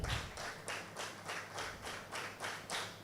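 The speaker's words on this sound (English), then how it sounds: "A round of applause for all of them." An audience at a project managers' mixer applauds in steady, rhythmic waves of clapping, faint and distant, with no talk over it.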